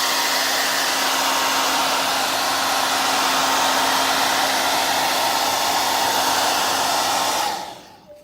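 Hair dryer blowing on freshly applied leather paint: a loud, steady, close whoosh of air and motor hum running unbroken for about seven seconds before switching off abruptly.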